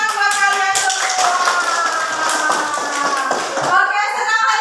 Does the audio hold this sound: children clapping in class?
yes